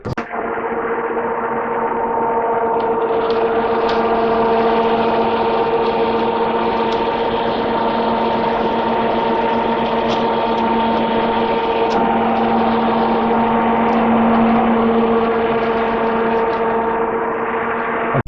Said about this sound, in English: we're going to now power on the fan so you can get some idea of how much air they move.